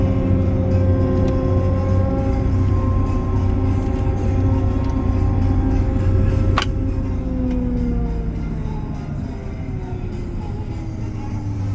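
Combine harvester with its corn head folded, droning steadily along the road between fields, a heavy low engine hum with whining tones that eases slightly toward the end.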